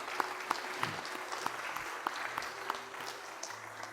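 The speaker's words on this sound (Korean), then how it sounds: "축복과 격려의 박수 한번 힘차게 보내겠습니다" A Sunday worship congregation at a Korean church applauds to encourage a church member recovering from a heart procedure: steady clapping with regularly spaced sharper claps, over a low sustained musical tone.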